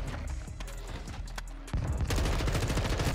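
Rapid bursts of gunfire in a Modern Warfare 2 multiplayer match, sharp cracks stacking into a dense volley after a sparser opening, loud and close.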